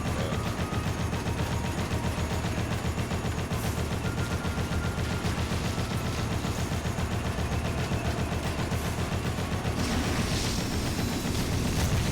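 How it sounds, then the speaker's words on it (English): Dense, continuous gunfire in the Dead Rising video game, rapid shots aimed at a vehicle's tires, loud and close with a steady rattling rhythm and a heavier burst near the end, no talking. "Shooting the tires just slows it down."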